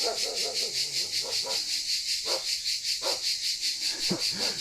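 A dog barks angrily in a few scattered bursts, somewhat distant, beneath a constant loud high hiss like insects droning outdoors.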